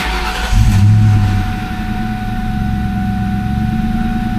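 A 1999–2004 Ford Mustang engine with a newly replaced idle air control valve starts, flares briefly, then settles into a steady, even idle, close and alone.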